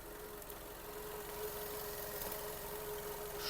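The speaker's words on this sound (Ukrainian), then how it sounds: "Робота двигуна." A 2012 Skoda Octavia A5 petrol engine, also set up for gas, idles steadily with a low, even rumble and a constant hum, recorded close with no voices.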